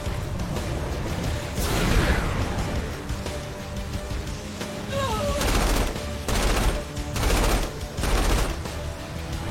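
Rifle gunfire in a video game, loud bursts of rapid shots repeating in several clusters over a steady game soundscape.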